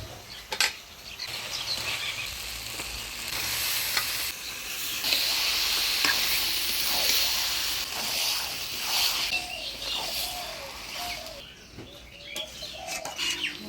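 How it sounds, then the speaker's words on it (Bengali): Spice paste with chicken gizzards sautéing in a pan, a steady loud sizzle and scraping stir running throughout with occasional clinks, close and continuous. "মশলাটা আমি ভালোভাবে কষিয়ে নিলাম"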